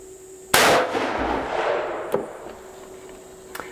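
A single loud, close gunshot from a Taurus Raging Hunter .460 S&W Magnum revolver fired single action at 10 yards, a sharp blast with a long rolling decay, followed by faint clicks.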